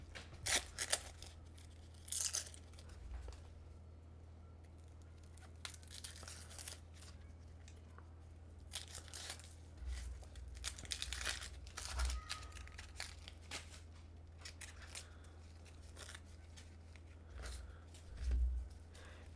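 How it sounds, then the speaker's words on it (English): A halved onion having its papery outer layer peeled away makes faint, scattered crinkling and tearing crackles with small irregular bursts and pauses in a quiet room, with no talk. "I'm going to peel off the outer layer."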